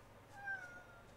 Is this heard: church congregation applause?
no